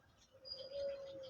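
Breeder pigeons on a rooftop loft in Rawalpindi give a soft, faint coo with a brief chirp, quiet and distant against a low background hum.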